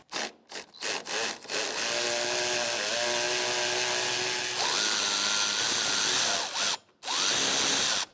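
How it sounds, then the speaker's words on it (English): A ratchet wrench loosens an 18 mm motor mount bolt on a 2007–2012 Nissan Altima 2.5L four-cylinder. It opens with a few short clicking bursts, then gives a long, steady, close grinding rattle that pauses briefly near the end and starts again. "now I'm going to take this bolt out of my motor mount. It's an 18 millimeter"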